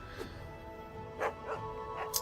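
A dog in the fantasy video game Kingdom of Hiden gives several short yips and barks, scattered over a low background hum, fairly faint and spaced apart.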